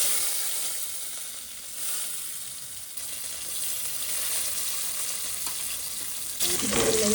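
Fennel, fenugreek and pepper sautéing in oil for a fish curry, a steady close hissing sizzle with occasional stirring scrapes, swelling louder near the end.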